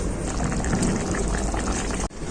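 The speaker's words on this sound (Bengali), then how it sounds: "ঝোলটা খুব ভালোভাবে ফুটে গেছে" Egg curry gravy with fried eggs bubbles vigorously in a pot, a dense, close, continuous boiling hiss with a brief cut near the end.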